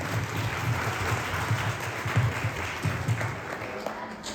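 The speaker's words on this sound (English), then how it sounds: "Let's give it a round of applause." Applause at a family celebration speech, a continuous patter of clapping hands from a modest crowd, moderately quiet and fairly steady for a few seconds.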